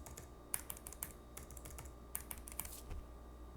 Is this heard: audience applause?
no